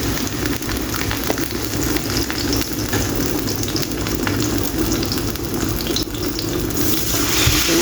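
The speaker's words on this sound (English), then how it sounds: "So now I'm gonna fry 2 pieces at a time" Fish fillet frying in hot oil in a pan, a steady close crackling sizzle that holds evenly throughout with no voices.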